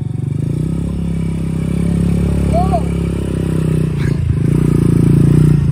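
An ATV engine revving loudly while riding off-road, a close, rough motor drone that swells and eases, with scraping and clattering and a brief voice over it.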